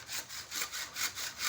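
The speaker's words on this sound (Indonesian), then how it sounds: "gergaji kayu." A hand saw cuts quickly through wood in a race to saw fastest, giving about six brisk, evenly spaced rasping strokes, close and clear with no talk.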